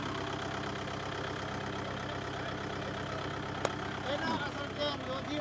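A Kubota 5502 4x4 tractor engine runs steadily at idle, a continuous low mechanical drone with a single sharp click partway through and some faint background noise near the end.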